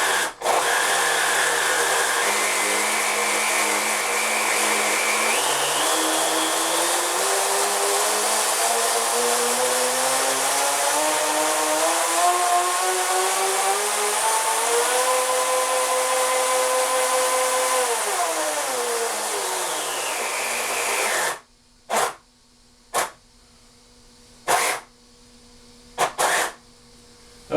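Two electric RC motors with ESCs and 21-tooth pinions whine together, pitch climbing steadily as they speed up, then winding back down before cutting out, followed by a few short bursts.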